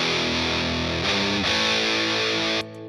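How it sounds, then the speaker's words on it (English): Sustained, heavily overdriven electric guitar open chord ringing loud and buzzy, with a slight shift partway, then cutting off abruptly near the end. "I'm using some overdrive. That gives you the distortion."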